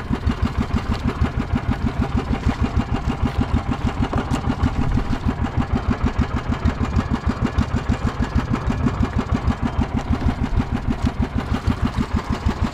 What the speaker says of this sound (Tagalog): Yung gamit ko ngayong makina.